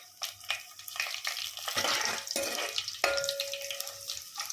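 Mustard seeds, cumin, garlic and dried red chillies frying in hot oil as tempering for sambar crackle and sizzle steadily, with scraping stirs and a brief clink of utensils close at hand.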